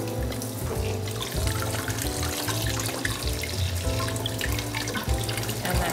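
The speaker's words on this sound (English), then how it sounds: "filling up the hose with water." Water pours from a tap into a siphon hose being filled for larval care, a bubbling, gurgling flow that runs continuously and fairly close, with no talking over it.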